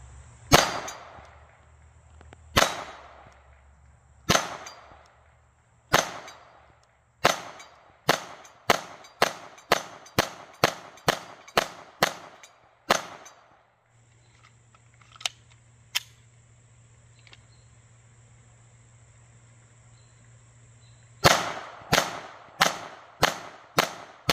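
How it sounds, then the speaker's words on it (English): Taurus TX-22 .22 pistol fired at steel targets outdoors, sharp shots in rapid strings, each followed by a faint metallic ring from the steel, with pauses between volleys and a final fast burst. "Now camera guy's going to take over and do some shooting. He's just going to have fun on steel."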